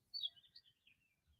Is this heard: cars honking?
no